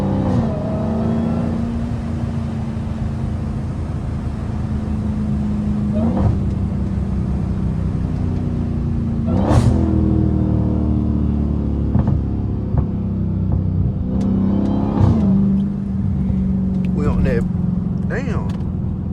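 Catless Dodge Hellcat on a road drive, a loud deep engine rumble swelling and easing as it accelerates, with several sharp pops and bursts along the way while someone talks over it.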